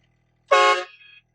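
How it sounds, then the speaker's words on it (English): One short, loud blast of a powerful train horn mounted in a truck, close up, cutting off abruptly and leaving a brief fading tail. "Has a train horn."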